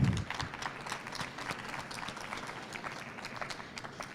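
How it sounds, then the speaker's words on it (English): An audience at a Cleveland Book Week evening at Worthington Yards gives a round of applause, a moderate, steady crackle of many hands clapping that carries on evenly without voices. "if we can give them a round of applause, they deserve it"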